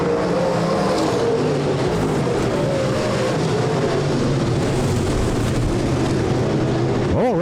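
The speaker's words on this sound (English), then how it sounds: "the first of 2 heat races for the Midwest Late Models tonight at the Rapid Speedway season finale" Midwest Late Model race cars roar through a heat race at Rapid Speedway's 2017 season finale, a loud, continuous engine drone with a rising whine near the end, under an announcer's talk.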